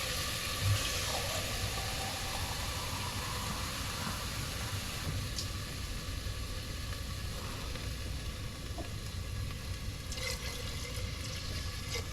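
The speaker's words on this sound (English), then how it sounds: "Add more water." Water pours steadily into an Indian pressure cooker holding mutton trotters and pumpkin, a continuous rushing fill lasting about twelve seconds, close and fairly loud with no talking.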